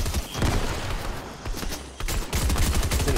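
Rapid bursts of gunfire in a Fortnite match, loud and close, with dense overlapping shots crackling through the whole moment and no voices.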